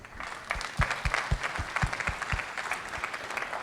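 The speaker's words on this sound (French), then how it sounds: "Mais je pense qu'on peut surtout applaudir Maxime aussi et Violaine pour l'organisation." An audience at a masterclass event gives lively, sustained applause, a thick, continuous clatter of many hands with a few heavier claps standing out.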